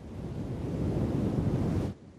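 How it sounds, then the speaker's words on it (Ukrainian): A cartoon ocean wave surges in a continuous loud wash of surf and rushing water that builds and then cuts off abruptly after about two seconds, with no voices. "Гляньте на оту хвилю."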